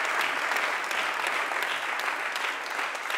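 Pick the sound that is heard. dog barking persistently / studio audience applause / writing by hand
studio audience applause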